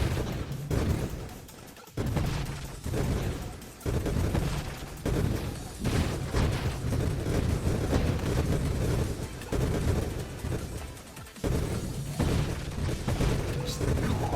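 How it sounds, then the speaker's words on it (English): Constant explosions and gunfire-like blasts from the space shooter video game Nova Drift, a dense, continuous barrage of booms with brief gaps, loud and sustained throughout. "constant explosion noise is kind of amazing for this build"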